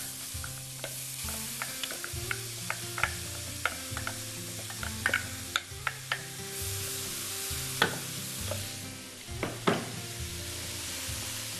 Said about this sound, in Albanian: Tigani shumë i nxehtë, qepa.